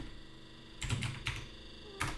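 A few sharp keystrokes land on a computer keyboard while typing in a terminal, close and distinct clicks in short separate bursts over a quiet background hum.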